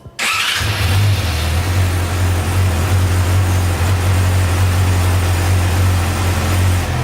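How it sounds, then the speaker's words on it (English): A Yamaha R6 motorcycle engine cranks and fires, then settles into a loud, steady idle with a deep, even hum that continues close by without any talking. "we want to start the bike right now, get it turned on, make sure everything's running right"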